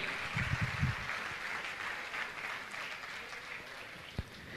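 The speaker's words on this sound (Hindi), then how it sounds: "मैं चाहूंगा ऐसे युवा के लिए जोरदार ताली बजाकर का सम्मान करें।" Soft, steady applause from an audience at a Jain religious gathering honouring a young community member, fairly distant and even, with a few low knocks early on and a single sharp thump near the end.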